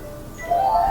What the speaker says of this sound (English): We're going to have to let it ring.